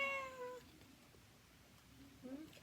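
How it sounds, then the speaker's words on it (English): A single drawn-out cat meow opens the clip, followed by quiet room background and a faint murmur near the end. "He's going, meow."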